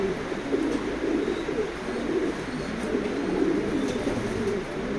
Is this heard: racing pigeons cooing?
yes